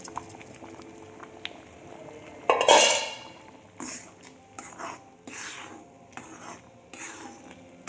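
A spoon stirs cooked vari rice for an Ekadashi dish in an iron wok, giving intermittent scraping and clinking strokes with one louder burst of metal scraping partway through.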